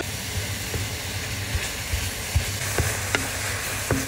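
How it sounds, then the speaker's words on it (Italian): Banana sautéing in a pan with maple syrup makes a steady, soft sizzle, with occasional light taps and clicks from stirring, heard up close with no talking. "E facciamo saltare in padella la banana per pochi minuti."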